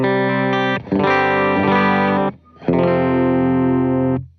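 Electric guitar on its bridge pickup, played clean, rings out in three sustained strummed chords with short gaps between them, close and clear.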